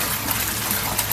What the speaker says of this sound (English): This is our sump where most of our water circulates from.